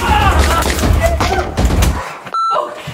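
Shots are fired at zombies in a dark maze of corridors: a few sharp bangs and thumps cut through a noisy scene, followed by high electronic beeps and voices.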